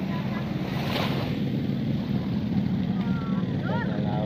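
Ocean surf at Khaleej Salman Beach in Jeddah rolls steadily, a broad continuous wash of waves mixed with wind rumble on the microphone.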